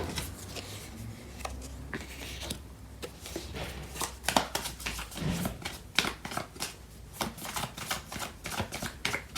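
Tarot cards are shuffled and flicked by hand at close range, giving a run of crisp papery snaps and riffles that grow denser and quicker toward the end.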